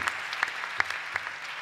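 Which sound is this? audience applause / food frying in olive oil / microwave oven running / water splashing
audience applause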